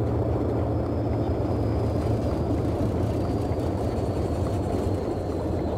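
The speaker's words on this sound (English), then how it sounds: "you can hear the engines coughing a little bit there" Engines of a Boeing 247D airliner in Microsoft Flight Simulator, idling after touchdown with a dense, steady low rumble that holds at an even level, with slight uneven flutter in the drone.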